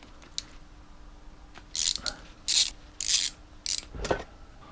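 Oil filter being removed from a supermoto motorcycle, with several loud scraping, rattling metallic bursts and small clicks at irregular intervals, close up and with no talking.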